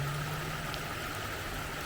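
Happy Creek flowing through a park in Front Royal, Virginia, a steady, fairly quiet wash of running water that continues unbroken, with no voices over it.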